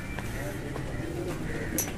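Low, murmuring pigeon coos roll on steadily through a busy background hum, with faint chirps and scattered knocks nearby.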